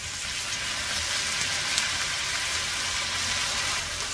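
Bitter melon stir-frying with soy sauce in a hot pan gives a loud, steady sizzle that runs unbroken from start to finish, with no voices.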